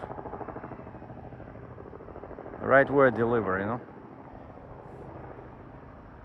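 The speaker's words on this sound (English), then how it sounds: "this chopper has been making circles" A helicopter circles overhead, its steady rotor drone audible throughout under a voice, with a low engine hum behind it.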